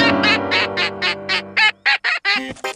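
A cartoon duck from a children's animated show quacks in a rapid run of about a dozen loud, nasal squawks, steady at first and then quicker and more varied toward the end, with a low hum underneath.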